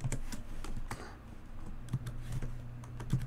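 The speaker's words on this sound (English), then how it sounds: "Then I'm gonna type" Steady typing on a computer keyboard, close and clear, with quick irregular key clicks running throughout and a brief pause near the middle.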